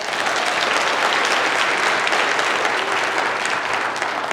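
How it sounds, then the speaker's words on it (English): A conference audience gives a sustained round of applause, dense clapping filling the room evenly at moderate level for over four seconds, with no voices on top. "So can I get a round of applause for that?"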